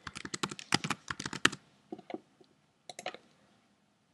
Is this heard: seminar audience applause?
no